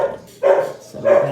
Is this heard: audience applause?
no